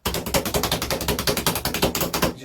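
People drum on a tabletop to imitate thunder: a loud, rapid, steady roll of sharp knocks lasting a couple of seconds, with no talking.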